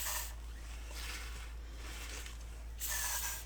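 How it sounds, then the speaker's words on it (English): WD-40 silicone spray from an aerosol can misting into plastic paint cups, a couple of short soft hissing bursts at the start and end with quieter spray in between. "I'm going to spray them with the WD-40 silicone spray."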